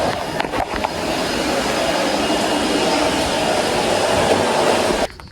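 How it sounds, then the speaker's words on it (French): A vacuum cleaner runs indoors with a steady, loud whooshing roar that holds constant before cutting off abruptly near the end. "Là ils sont en train de passer l'aspirateur parce qu'il n'y en a qu'un seul."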